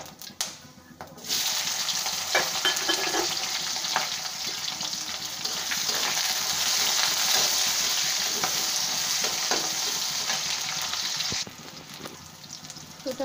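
Onions sizzle loudly in oil in a pan after whole cumin seeds, with the scrape and clatter of a spatula stirring through the steady hiss. The sizzle starts abruptly and fades near the end.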